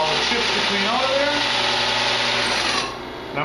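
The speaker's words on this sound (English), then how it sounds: "I'm going to drill through the piece of wood" A drill press bores through a piece of wood with a steady, loud motor whine and cutting noise, easing off near the end and then starting again.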